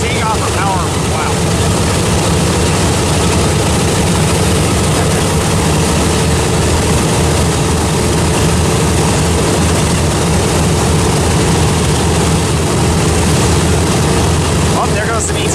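A World War II B-25 propeller bomber runs up for takeoff, a loud continuous roar of piston engines with a heavy low drone that holds steady and close the whole time.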